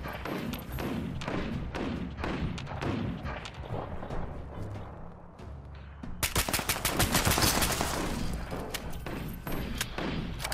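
Rapid gunfire in the online video game Fallout 76: repeated close shots and bursts, dense and loud, intensifying into a sustained volley of automatic fire in the second half, with occasional thuds underneath.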